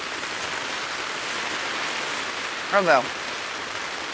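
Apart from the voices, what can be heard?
rain falling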